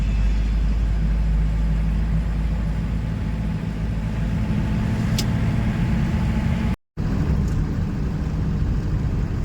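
A convoy of cars travels together on the Amarnath Yatra pilgrimage route, heard as a steady low road and engine rumble from inside a vehicle, continuous apart from a brief cut near the end.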